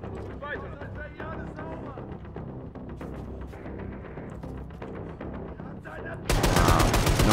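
Rapid bursts of weapon fire from a first-person shooter set in the Wolfenstein series, a dense run of shots mixed with game effects and music, ending in a louder roaring blast.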